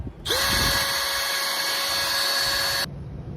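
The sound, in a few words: power drill drilling a hole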